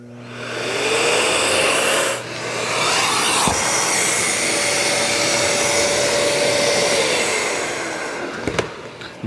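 A Milwaukee 8-gallon dust extractor vacuum runs loud and steady, with a rushing, whining airflow that dips briefly and then holds. A couple of sharp knocks come near the end, in a concrete-drilling setup.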